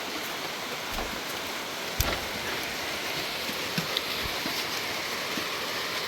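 First rain of the year, a steady broadband hiss of falling rain outdoors with a few sharper drops and taps breaking through, soft and continuous with no voices.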